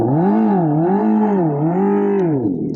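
Simulated engine sound from a Revolt RV 400 electric bike: a loud, continuous synthetic hum that rises and falls in smooth waves, heard up close with no talking.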